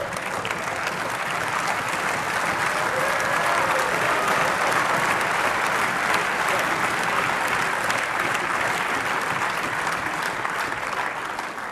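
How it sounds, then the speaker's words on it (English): Sustained applause from members of the EU Parliament chamber, dense and steady throughout, a broad wash of many hands clapping at once with no talk over it. "That's the last time you are applauding here."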